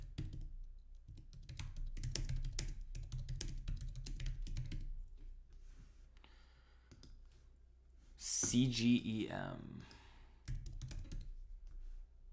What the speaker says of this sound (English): You type like it owes you money? Yeah, screw my keyboard.